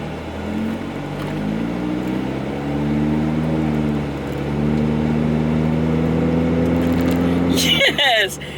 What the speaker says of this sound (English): So excited, I can drive my car again.